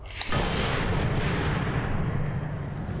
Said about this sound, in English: I'm just shooting with a pistol